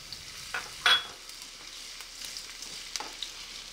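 Onion frying in olive oil for an eggplant stuffing: a soft, steady sizzle with a sharp utensil clink near the start and a few light scraping stirs afterward.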